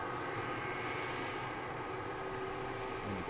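Turbine whine and a steady engine roar from a CH-47D Chinook helicopter starting up in a flight simulator game: a continuous, even drone with a faint high tone and no talk.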